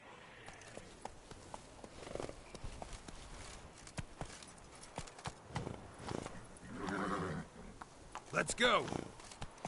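Hooves of Roach, a horse in the video game The Witcher 3: Wild Hunt (Blood and Wine), clip-clop at a steady gallop throughout, with a short whinny and a brief spoken line from a man over the hoofbeats.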